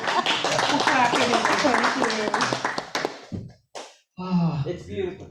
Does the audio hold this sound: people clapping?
yes